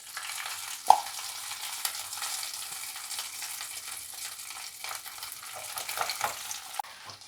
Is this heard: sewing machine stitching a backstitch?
no